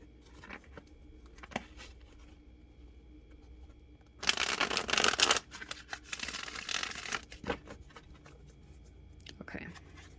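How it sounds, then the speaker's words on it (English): Tarot cards are riffled and shuffled in a loud, dense burst of papery flutter, with quiet speech and small handling taps before and after. "Stop shuffling"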